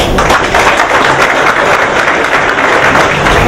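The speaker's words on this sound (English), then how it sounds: "I'd like to have you all stand and give them a very warm round of applause for my friend Rafael Martinez-Ybor" A standing audience at a museum society awards event in Ybor City gives loud, dense, continuous applause, many hands clapping close and steady with no gaps.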